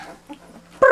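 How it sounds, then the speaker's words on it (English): A young puppy makes a low, soft rumbling growl that comes across like a purr, faint at first, then a sudden louder whiny yip at the end. "I think he's trying to growl, but it sounds like a purr, so we call it puppy purrs"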